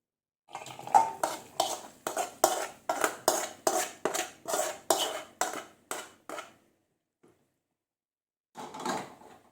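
Aloo matar curry is scraped from a pot into another vessel with a metal spoon, giving about a dozen sharp, evenly paced clinks and scrapes, close and clear, then a pause and one last scrape, with no talking.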